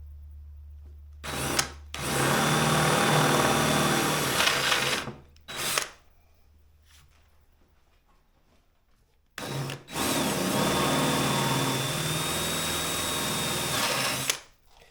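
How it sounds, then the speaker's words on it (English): A drill boring a 3/8 inch hole with an aggressive bit close to a boat's water line, running in two loud sustained bursts of several seconds each, separated by a quieter pause with brief starts. "so I'm going to make these 1/2" holes. But first I'll make it a 3/8 hole."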